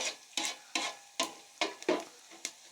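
Dry spices for pulao frying in a pot over a high flame, with rhythmic scraping stirs about every half second over a soft sizzle, close and alone with no voices.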